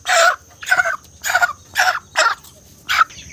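A rooster squawks in six loud, harsh bursts at a steady rhythm as it is caught in a broiler chicken shed, each call close to the listener, with short quiet gaps between them.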